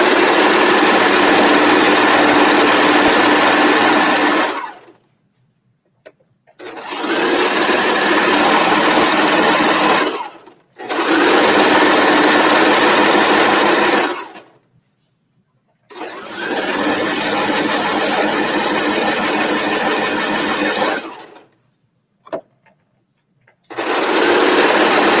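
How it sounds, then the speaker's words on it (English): A sewing machine stitches along a fabric edge while a skirt is being draped. It runs in four loud, sustained bursts with short silent pauses between them. "I'm just stitching right along the edge of where I can see my stitch line"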